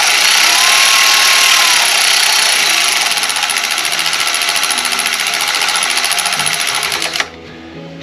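A cordless ratchet runs down bolts on a Kohler Command V-twin engine, giving a loud, steady, buzzing mechanical whir that holds for about seven seconds and then cuts off abruptly.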